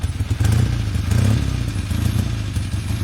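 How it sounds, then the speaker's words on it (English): A motorcycle engine runs steadily close by, with a deep low rumble that swells slightly while revving and stays loud and continuous throughout, with no voices. "It's a motorcycle and it's a vehicle."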